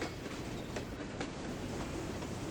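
An Iowa Interstate freight train of boxcars and hoppers rolls over a worn wood-paved crossing, a steady close rumble with rhythmic clickety-clack of wheels on rail joints.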